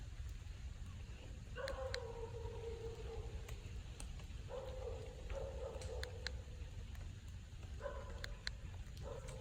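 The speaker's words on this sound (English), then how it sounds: "dog. You can hear him over there." A dog off in the distance in wooded deer-hunting country, giving a few faint yips and drawn-out whimpering howls, thin and far away under steady outdoor background hiss.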